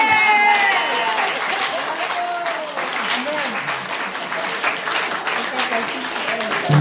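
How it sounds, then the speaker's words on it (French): A gathered audience applauds together, continuous full clapping with a loud crowd texture and some voices mixed in, sustained for several seconds at close range. "Amen, on va l'applaudir."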